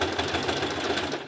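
A sewing machine stitches the edge of a fabric scrap for a bottle carrier, running in a steady, rapid mechanical chatter close by for the whole stretch, with no talking.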